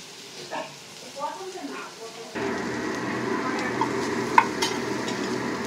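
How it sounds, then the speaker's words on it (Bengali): Paste being stirred into fried onion and chilli in a pan, a soft stirring and scraping that gives way to a louder, steady sizzle with occasional sharp clicks of the utensil. "পেঁয়াজটা ভেজে দিয়েছি আর লঙ্কা দিয়েছি, আর এর মধ্যে এই পেস্টটা গুলে নিয়েছি।"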